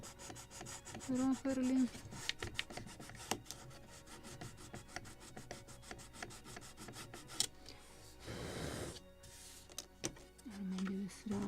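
A file rasping along the edge of a wooden bulkhead to chamfer it on a model of the 1776 gunboat Philadelphia, close and fairly quiet, in repeated short strokes with a longer rubbing pass; someone speaks briefly.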